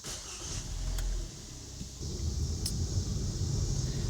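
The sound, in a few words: Kia car engine starting for a test drive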